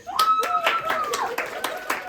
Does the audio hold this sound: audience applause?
yes